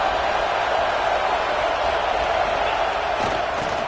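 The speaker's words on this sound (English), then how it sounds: "this big crowd doing everything possible to inspire this defense down here near the goal line" A big football stadium crowd at a Georgia versus Notre Dame game roars continuously near the goal line, a loud and steady wall of cheering and shouting with no clear pauses.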